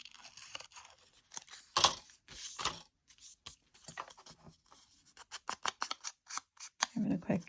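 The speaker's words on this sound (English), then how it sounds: "I'm just going to do kind of a rough fussy cut around the tree." Scissors snip roughly around a paper tree shape for a file-folder tag, giving irregular close crisp cuts that quicken toward the end, with faint talk at times.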